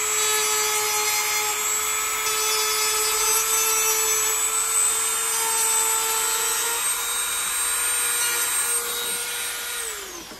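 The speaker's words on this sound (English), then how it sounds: "just use a Dremel, and I'm just lightly taking off a little bit of plastic just right on the edge right there" A Dremel rotary tool lightly grinding the plastic edge of a Pelican Vault 730 case, a steady high-pitched whine with a gritty rasp running continuously and close, winding down at the very end.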